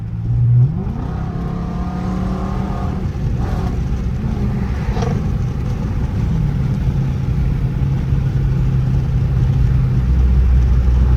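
A 400 HP Chrysler 300 Hemi driving with a manual shift: a loud, steady engine drone and road roar fill the cabin, with one brief rev early on and no talking.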